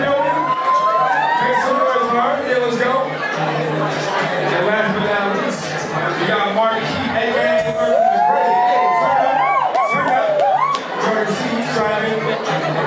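A lively crowd at an Atlanta art battle cheers, whoops and shouts for an artist, keeping up a dense, continuous roar of voices throughout with scattered high yells rising above it.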